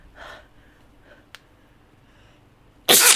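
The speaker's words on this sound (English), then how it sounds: "Stop sneezing!" One person sneezes, a sudden loud burst at the end after quiet breathy sounds.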